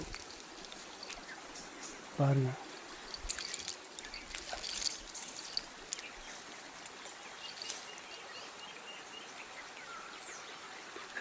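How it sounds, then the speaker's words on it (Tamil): Two small forest streams meet and flow together, a faint, steady rush of water with a short voice heard over it and scattered bird calls around. "இதுதான் இரு ஓடை சந்திப்பு"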